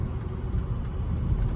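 An Audi A6 with worn brake rotors brakes while driving, giving a steady low rumble of road and cabin noise with faint rhythmic pulsing scrapes repeating about every third of a second.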